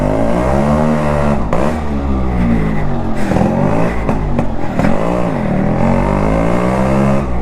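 A Yamaha RX135 four-speed two-stroke motorcycle engine revs loudly up close, its pitch rising and falling in repeated throttle blips over a steady idle, with no talking.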